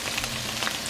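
Ground beef burger patties fry in a home kitchen pan, giving a steady, soft sizzle with faint crackles that runs evenly through one second, close but fairly quiet.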